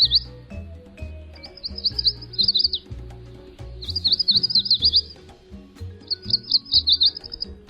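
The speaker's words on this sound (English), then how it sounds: "The yellow warbler, today's Talkin' Birds featured feathered friend." A yellow warbler sings bright, high, rapid phrases in several repeated bursts, clear and fairly close, over a low rhythmic music bed.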